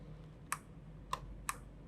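Three separate computer keyboard key presses, entering values while drawing walls from a floor plan in AutoCAD, come as sharp clicks evenly spaced about a second apart over a quiet room hum.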